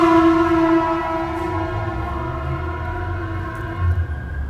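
An emergency siren passes outside on a city street, a loud sustained tone rich in overtones that holds steady for several seconds over low traffic rumble, heard alone without any talking.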